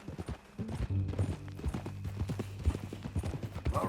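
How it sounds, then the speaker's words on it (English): Horse hooves clip-clop in a steady, close walking rhythm across ground in Red Dead Redemption 2, with a faint voice near the end. "That a new horse?"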